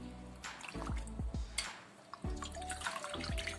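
Water dripping and splashing as a turmeric-dyed handkerchief drains into a basin of cold water, a few distinct plops and trickles close by.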